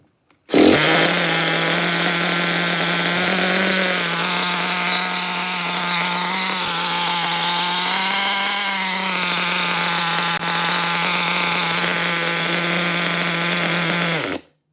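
A vintage Traxxas T-Maxx nitro RC truck with a 3.3 engine and a fake carb runs steadily at a high, buzzing pitch for about fourteen seconds, loud and close, with no talking over it.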